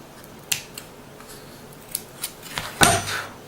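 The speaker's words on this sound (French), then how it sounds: "Là, hop, on va couper la corde." Scissors snip through a cord while making a folded-paper dress, giving a few short, close clicks and snips, then a louder crisp cut near the end, with no talking.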